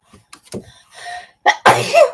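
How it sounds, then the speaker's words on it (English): A single loud sneeze bursts out after a few soft breathy sniffs and catches, close to the microphone, ending in a trailing vocal exhale. "I'm going to sneeze. I can feel it coming."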